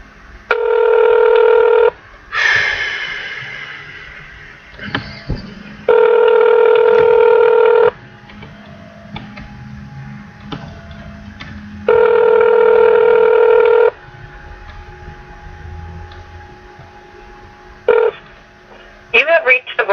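A telephone call being placed to a fitness company's customer service line: bursts of touch-tone dialing, then repeated long ringback tones with pauses, and brief voice fragments and clicks in between.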